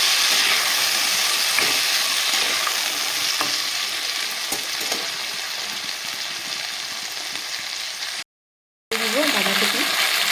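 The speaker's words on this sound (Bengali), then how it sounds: "আলুটা ভাজা হয়ে গেছে, দিয়ে দিব মটরশুঁটি আর টমেটো।" Diced potatoes, green peas and tomato fry in a hot pan, giving a steady loud sizzle with occasional scraping stirs, then a brief gap and a louder burst of frying.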